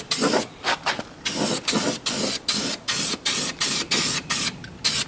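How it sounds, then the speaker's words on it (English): Rubber underbody coating sprays from an aerosol can into the wheel arches of a Datsun 280ZX, in about a dozen close, loud hissing bursts with short gaps between them. "It's like full rubber spray that goes under the guards and just makes it look all nice and stops everything from corroding"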